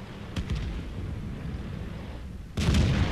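A VK 30.02 D tank fires its gun in World of Tanks, with a loud booming blast near the end over steady engine rumble and a fainter distant shot earlier.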